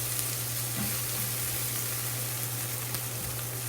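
Cremini mushrooms sizzle in oil alongside chicken in a sauté pan, a steady, close frying hiss holding evenly throughout with a low hum underneath and no voices.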